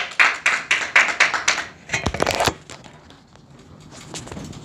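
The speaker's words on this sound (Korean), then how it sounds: "우리 하나님 앞에 영광의 박수 올려드리겠습니다." A church congregation applauds after a closing prayer, with dense, brisk clapping for about two seconds before it thins out and fades into quiet room tone.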